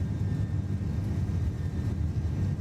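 In a flight simulator, airliner engines roar steadily during the takeoff roll. The sound is a dense, low, continuous rumble without breaks and with no voices.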